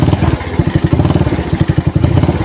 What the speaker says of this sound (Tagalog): Habang tinuthrottle ko siya, mabagal yung pick up ng ano niya, ng motor niya.